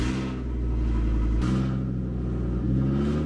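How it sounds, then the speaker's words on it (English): Bus engine damaged by a stolen catalytic converter, a loud continuous low rumble with deep harmonic throb, close and steady throughout, briefly surging. "Felt like a tractor trailer cranking up, and I looked over and I was like, okay, sounds like a catalytic converter."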